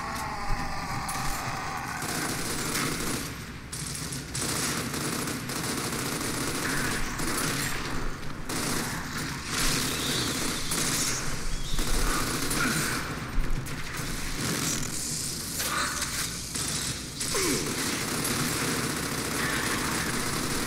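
Rapid gunfire from the Gears of War video game as propane tanks are shot, dense and continuous with bursts layered over engine-like rumble, loud and close throughout with no talk.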